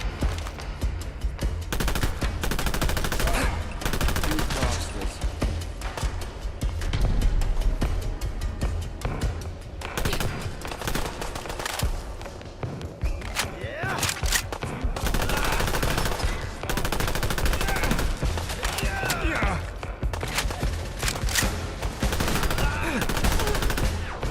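Combat rifle gunfire in the video game Fallout London, loud and sustained rapid bursts of shots crackling almost continuously, with brief pauses between volleys and game effects underneath.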